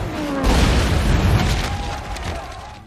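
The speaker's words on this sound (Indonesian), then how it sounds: "1 tembakan meriam Hellcat mengempaskan semuanya." One heavy Hellcat tank cannon blast booms out, followed by a long, rolling rumble that slowly fades over the next couple of seconds.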